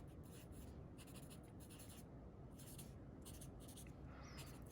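Pen or marker scratches steadily across a surface while lecture notes are written, in faint, quick strokes and bursts with pauses between them, alone without talk.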